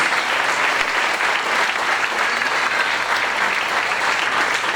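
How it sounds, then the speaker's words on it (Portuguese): Members of a church congregation clap in praise at a prayer service, a loud, continuous roar of hands filling the room for several seconds. "Aplauda o Senhor"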